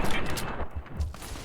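Loud, rapid gunfire bursts in Fallout: New Vegas, with dense overlapping shots packed into a brief moment.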